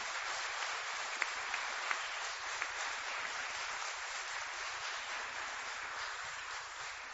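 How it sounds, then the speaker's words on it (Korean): A church congregation at a Baptist church in Hongseong applauds after a guest sermon, giving steady, even clapping from a large room that sounds soft and distant, with a few sharper claps standing out. "우리 박수로 화답해 주시면 감사하겠습니다"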